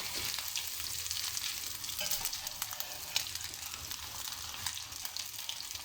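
Egg cutlets frying in a pan over medium heat give a soft, continuous crackling sizzle, fairly quiet and even throughout, with a few faint pops and no voices.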